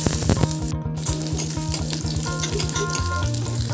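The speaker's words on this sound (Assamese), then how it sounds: "এতিয়া দিম ইয়াত পিঁয়াজ আৰু নহৰু মিহি মিহিকৈ কুটি থোৱা আছে ইয়াত এড কৰি দিম" Finely chopped onion and garlic frying in hot mustard oil after fenugreek seeds, a loud, close, crackling sizzle with bubbling pops running continuously.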